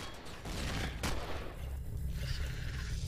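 Enemy gunfire in the space survival game Empyrion: a dense, crackling burst of shots and a sharp crack, followed by lower rumbling and mechanical noise, fairly quiet overall.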